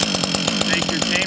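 Chainsaw pull-started on the ground with the handle held between the legs, its rapid engine putter running steadily and close by for the whole short stretch, with some voice beneath it.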